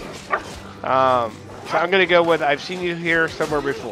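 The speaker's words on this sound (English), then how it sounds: "I apologize for the dog barking in the background." A dog barks and yips in the background while a person talks over it, with short bursts of barking breaking up the speech.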